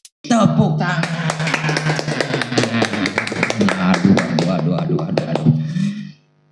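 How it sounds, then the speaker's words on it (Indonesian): Audience clapping at the opening of a podcast, a dense burst of applause that starts abruptly, holds steady for several seconds and cuts off, with voices mixed in. "Tepuk tangan."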